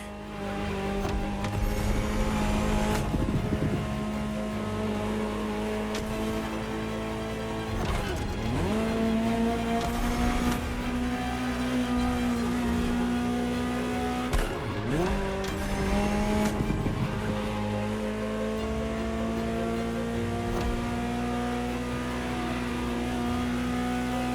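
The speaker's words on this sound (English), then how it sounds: "Just listen to the car you're driving." A Ferrari supercar in the racing game The Crew Motorfest drives with a loud engine drone that climbs through gear shifts and drops sharply twice, with tire squeal mixed in, close and continuous.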